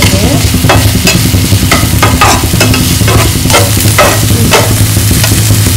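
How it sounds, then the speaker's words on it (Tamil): Onions frying in a pan for egg Maggi dosa, with a loud, close sizzle and a series of rhythmic scraping stirs of a spatula across the pan. "நல்லா கலந்து விட்டுக்கோங்க."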